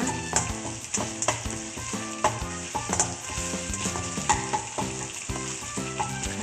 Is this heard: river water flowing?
no